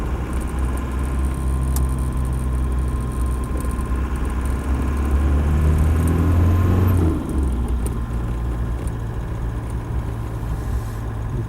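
A Land Rover 90 station wagon with a 200TDi diesel pulling away, its engine rumbling steadily and building to a heavier low drone before easing off, close and continuous without talk.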